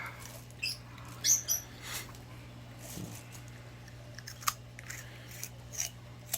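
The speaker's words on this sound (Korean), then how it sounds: "그래서 여러분 제가 가위로 한번 잘라보려고 합니다" Scissors snip through the thin skin of a bass belly, several quiet, separate crisp cuts spaced irregularly over a faint steady hum.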